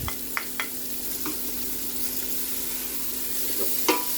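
Onion frying in oil in a pan for chicken adobo, a steady close sizzle broken by a few brief stirring clinks and scrapes.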